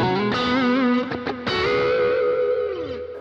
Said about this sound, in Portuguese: O efeito 2 é a mesma ideia de antes, é o mesmo drive que tava, só que com o delay já ativado e o reverb diferente.